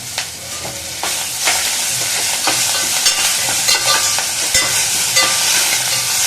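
Onions frying in oil with coriander and curry leaves being stirred in for white chickpea sundal, a steady close hiss with scraping stirs and small crackles throughout.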